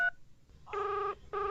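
Touch-tone keypad tones from a mobile phone being dialed: a short tone, a pause, then two longer steady dual-pitch beeps, clear and close with no talk.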